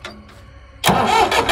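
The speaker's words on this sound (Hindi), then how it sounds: "चलो चलो स्टार्ट करो ट्रैक्टर को" A tractor engine cranks and catches after a few faint clicks and a pause, then runs loud and close with a rough, steady mid-range roar to the end.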